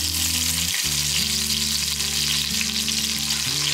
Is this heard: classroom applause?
no